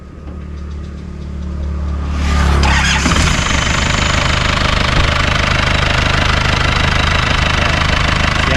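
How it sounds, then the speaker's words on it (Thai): A 1992 Isuzu Dragon Gold pickup truck with a 90 hp engine cranks, catches and settles into a loud, clattering idle that stays close and steady to the end, with no voices. "แต่ผมลองสตาร์ทนะครับ เจ้า อีซูเนี่ยเสียงเครื่องจะค่อนข้างดังหน่อยนะครับเพราะว่ามันเป็นเปลืองนะครับ"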